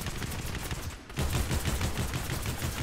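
Rapid gunfire in a shooter video game, a dense, loud automatic burst that pauses briefly and then resumes as continuous close-range shooting.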